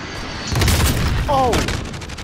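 Gunfire from the Call of Duty: Modern Warfare video game: loud, booming shots burst in after a brief quiet, then continue as a dense volley with a short voice-like sound in the middle.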